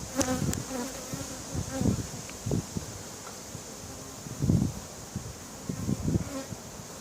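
Honeybees buzz steadily around an open hive during comb renewal, a continuous close drone broken by faint knocks and rustles of handling, with no talk.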